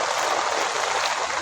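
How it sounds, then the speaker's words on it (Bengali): Heavy rain and rushing water at a flooded railway station in Bangladesh, a loud, steady broadband roar of water flow with no pauses and no talk. "প্রচুর পরিমাণ বৃষ্টি"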